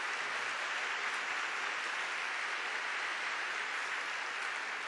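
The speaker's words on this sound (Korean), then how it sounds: "잠깐 좀 일어났다가 박수로 환영해 주시기를 바랍니다" Church congregation applauding to welcome visiting members from Jecheon Jeja Church, a dense, sustained wash of clapping from a large crowd, steady and unbroken throughout.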